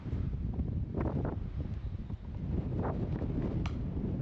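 Strong wind buffets the microphone outdoors in Ayia Napa, Cyprus, a heavy low rumble with gusting swells and faint rustling, continuous and loud.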